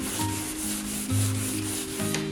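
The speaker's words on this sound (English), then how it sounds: "I started sanding down with the 400 grit" Steady rubbing of 400 grit sandpaper against a painted snowboard surface, a continuous gritty scrub with a faint tonal hum underneath, close and even in loudness.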